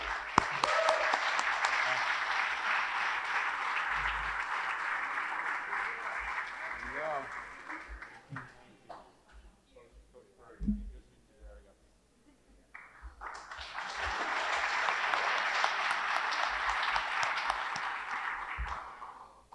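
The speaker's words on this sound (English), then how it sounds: "we'll give you a round of applause" Sustained round of applause from a crowd at a men's lacrosse awards breakfast, loud and steady, dipping into a quieter stretch with a few voices before a second strong burst of clapping.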